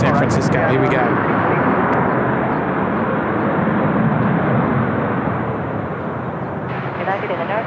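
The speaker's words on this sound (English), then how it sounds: "United Dreamliner on the way from San Francisco" A United Boeing Dreamliner arriving from San Francisco at Seoul Incheon Airport, its broad, steady engine roar loud and close throughout, easing slightly toward the end, with people talking over it.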